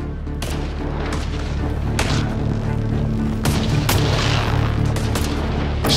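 Enemy shooters fire in a combat scene: repeated loud booming shots and cracks land over a constant low rumble, with several sharp reports spaced irregularly throughout.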